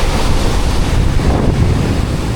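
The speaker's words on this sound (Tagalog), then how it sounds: "Ang laki ng grabe yung alon dito" Large waves crash onto the seaside shore below a sea-view cabin at Real, Quezon, under strong gusting wind. The roar is loud, dense and continuous, with buffeting wind on the microphone and no voices.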